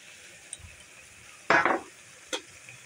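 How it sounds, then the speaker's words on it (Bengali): Prawns go into a thick taro stew in a pot and get a quick stir, one short clattering scrape with a few sharp clicks of utensil on metal amid near-quiet. "মাছগুলো দিয়ে নাড়াচাড়া দিয়ে আবার ঢেকে রাখবো"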